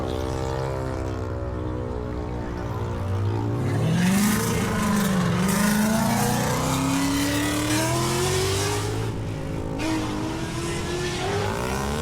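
A 900-horsepower Dodge Scat Pack's engine revs hard at a race night, its roar climbing and swelling in pitch, loud and sustained with throaty rumbling, no talking.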